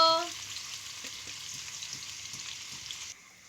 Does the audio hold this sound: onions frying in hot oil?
yes